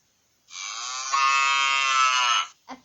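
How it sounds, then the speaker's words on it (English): A cow lets out one long, loud, drawn-out moo that swells and then cuts off, followed by a brief faint sound. "A cow goes moo."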